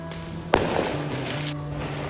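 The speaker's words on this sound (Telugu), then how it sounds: "ఇక్కడ టపాసులు పేలుతున్నాయి చూడండి." A single sharp Diwali firecracker burst goes off from a rooftop during festival night, a brief loud crack followed by a fading crackle and ongoing background hum.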